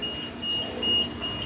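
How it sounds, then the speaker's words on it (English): Fire alarm sounding during a sprinkler system test, a steady electronic tone with a faint buzzing pulse, moderately loud and continuous over a low mechanical background. "Here we have the alarm, fire"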